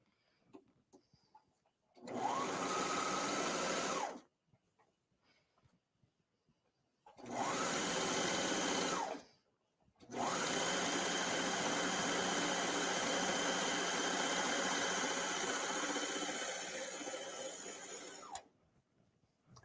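A serger sewing machine stitches a skirt in three close, steady runs. The first two are short bursts and the last is long, each one stopping abruptly into quiet.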